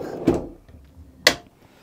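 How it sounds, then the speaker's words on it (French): Drawer opening and then closing inside a Notin Liner motorhome, two short bright knocks about a second apart, close and fairly loud in a quiet interior. "Un tiroir, et un bon tiroir."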